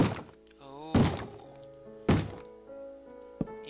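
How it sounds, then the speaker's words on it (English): In a Minecraft game, a zombie bangs on a wooden door in three heavy, spaced thuds, fairly close and loud, with quieter background game sounds between the blows. "That is the sound of a zombie who found our door."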